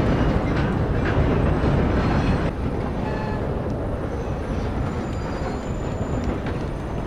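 A train rolling on rails in Red Dead Redemption 2, loud and continuous, with a heavy low rumble, steady wheel noise and faint high squeals over several seconds, no voices.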